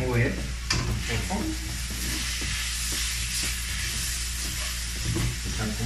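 Rice stir-fried in a wok with carrot and omelette, a steady close sizzle broken by repeated scraping stirs of the utensil against the pan.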